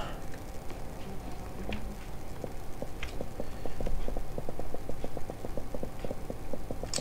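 Footsteps in the block-building game Minetest sound like a trotting horse, a steady run of hollow clip-clop knocks that keeps going close by with faint game ambience beneath and no talk.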